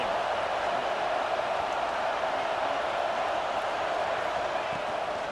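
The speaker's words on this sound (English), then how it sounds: "This crowd ready to make its presence known" A dense, steady roar of a stadium crowd fills an American football video game, a continuous even wash of cheering noise without breaks.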